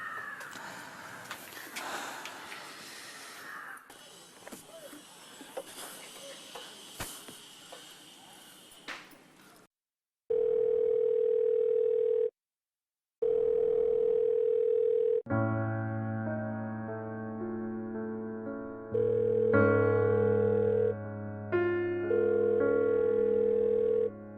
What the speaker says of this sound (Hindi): राणा सर फोन क्यों नहीं उठा रहे?